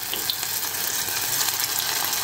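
Lumpia chips frying in hot oil in a small pan, a steady, close, bright sizzle with crackling pops and no talk.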